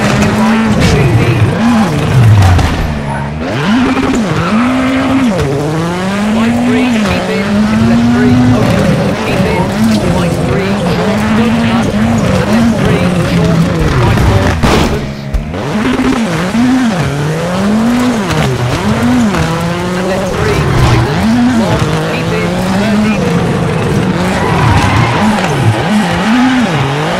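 Rally car racing through a Monte Carlo stage in the WRC 7 video game, engine rising and falling through repeated gear changes with tire skids, while a co-driver calls pace notes over it.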